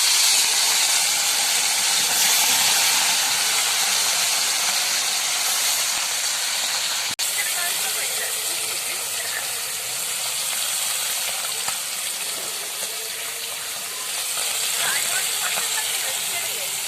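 Fish sizzling as it fries in hot oil in a home kitchen, for an Odia-style fish curry: a steady, dense hiss with crackling that runs unbroken for the whole stretch at fairly close range, with no talk over it.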